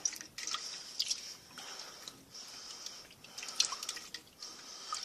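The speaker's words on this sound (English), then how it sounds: "Now you're going to take something and stir it around to get all that borax solution mixed in." DIY slime being stirred with borax solution mixed in, giving wet squishy drips and squelches in repeated bursts, close and fairly quiet with no talk.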